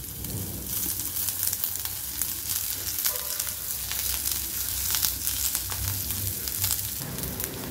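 Ginger and green spring onion fry in hot oil in a pan for a paneer momo filling, a continuous dense sizzle with occasional crackles and stirring scrapes, steady and close.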